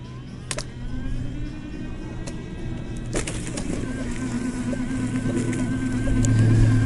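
An iGo S20 folding take-apart mobility scooter carrying a 220-pound rider drives over compact grass, its steady electric motor whine humming close and continuous with rustling and bumps, slowly growing louder toward the end.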